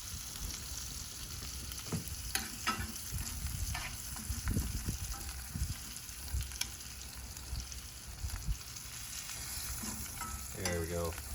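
Butter burgers sizzle on a Big Green Egg grill, a fairly soft, continuous frying crackle broken by scattered clicks and scrapes nearby.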